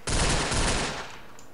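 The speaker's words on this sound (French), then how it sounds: "Ok, donc apparemment, je tire en rafale." Burst gunfire from a weapon in the block-building game Blockland: a loud, dense rattle of rapid shots lasting about a second before fading into a short tail.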